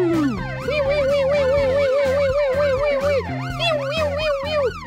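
A police car siren wails in a steady rising-and-falling pattern, loud and close, repeating through the whole stretch with no talk over it.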